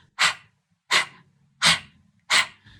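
Four sharp, forceful breath exhales through the mouth in Kapalabhati breath-of-fire practice, evenly spaced at about one per second, close and isolated with silence in between.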